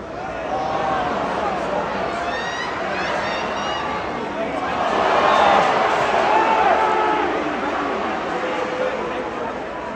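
A large stadium crowd at an NRL rugby league match between Parramatta Eels and Brisbane Broncos roars and chants with a steady dense swell, rising louder midway, mixed with nearby voices talking.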